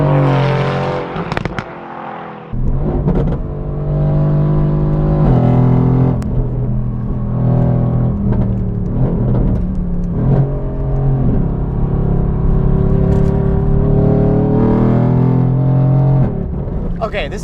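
A Mercedes-AMG GT R driven hard on an open road gives a loud, close engine roar that rises and falls through revving gear changes, with a brief dip near the start and someone talking over part of it.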